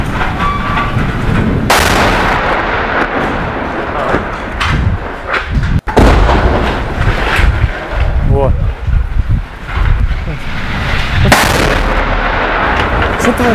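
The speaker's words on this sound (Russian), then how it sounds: "Взлет взрывают." Artillery fire and explosions hit an airport runway. Heavy, loud booms land in a rumbling barrage, with sharp blasts standing out a few times, and voices can be heard in between.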